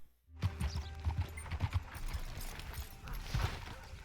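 Horse hooves clip-clop in Red Dead Redemption 2, a steady, fairly close walking rhythm of distinct hoof strikes, heard alone without talk.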